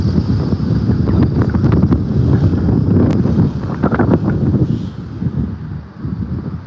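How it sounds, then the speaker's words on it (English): Strong wind buffets the microphone in continuous gusty rumbles, loud and close, with no talking. "very windy"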